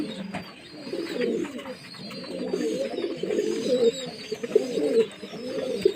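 Pigeons coo steadily in a loft during May heat, where adult birds and young pigeons are being hand-fed; the low, rolling coos overlap and pulse continuously at close range, with no talk.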